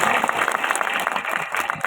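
Dense, steady applause from a crowd at an outdoor political rally, loud and close, filling the whole stretch with no voice over it.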